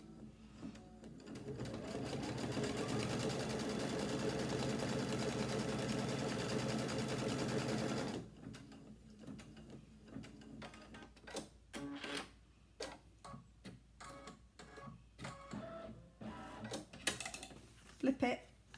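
Embroidery sewing machine stitching folded quilt fabric, a fast, steady mechanical whirr for about eight seconds, then stopping, followed by scattered clicks, rustles and handling noises.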